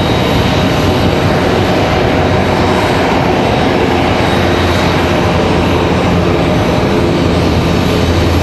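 An Air France Boeing 787 Dreamliner arrives at Raleigh-Durham airport, its engines a loud, steady broadband roar held at the same level throughout.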